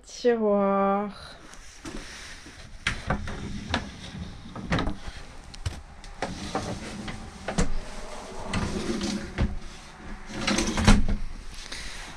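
Wooden drawers in a self-built van furniture frame of wooden battens slide open and shut several times, giving a series of nearby knocks and scrapes, with a short tonal whine at the start and soft background noise between.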